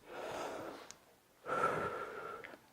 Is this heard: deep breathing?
yes